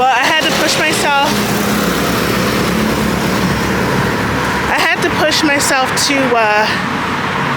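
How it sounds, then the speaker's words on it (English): Cars pass steadily on a busy street in Merida, Mexico, a continuous loud traffic roar with several nearer vehicles swelling past while someone talks over it. "I am on a very busy street next to me, so you'll hear a lot of cars."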